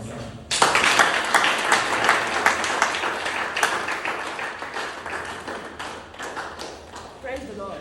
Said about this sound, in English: Clap for my son.